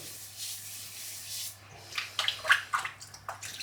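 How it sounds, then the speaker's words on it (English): Soaking water from a tub of Mitchell's Wool Fat shaving soap is poured out with a soft, wet rush that ends in a few short splashes and drips, close and quiet with no talk. "I'm just going to get that water out."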